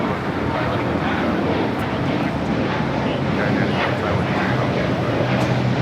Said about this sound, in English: Got that Delta Flight 8. Next up for arrival on the north side.